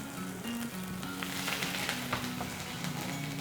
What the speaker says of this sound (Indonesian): sekarang aku langsung masukkan bombaynya